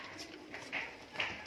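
Fancy green-necked pigeons kept for sale in India coo softly in a couple of faint, brief swells against quiet background hiss, with no talking.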